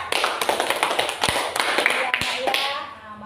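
A school class clapping hands in rhythmic bursts during a lesson, sharp close claps repeating several times then tapering off near the end.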